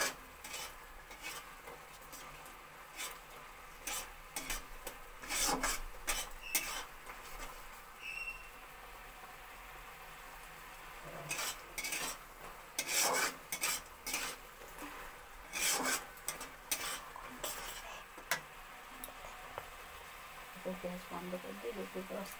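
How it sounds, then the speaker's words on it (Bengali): A spoon scrapes and clinks against a pan while tomato chutney with sugar is stirred, with irregular bursts of metallic scraping and faint sizzling between quieter pauses; a voice talks softly at times. "চিনি যতক্ষণ না গলছে ততক্ষণ তোমাদের নাড়াতে হবে।"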